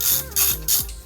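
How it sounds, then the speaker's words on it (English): A ratchet with a 12 mm socket turns brake caliper bolts on a Mercedes CLK 320 W209, sounding as three short, loud, close bursts of ratcheting clicks. "we're gonna go ahead and remove these bolts and just get my sockets"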